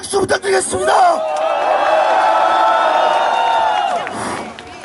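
A crowd at a street rally for Sewol ferry victims' families near the Blue House in Seoul roars in sustained loud cheering and whoops, rising after a few short shouts and holding steady before fading.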